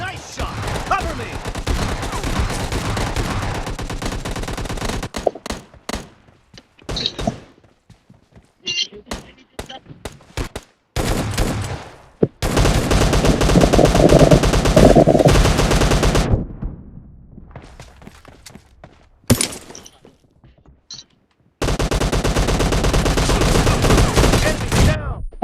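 Gunfire in the battle royale game PUBG Lite with an SKS rifle, loud bursts of rapid automatic shots and repeated single reports separated by quieter gaps, with players talking over parts of the action.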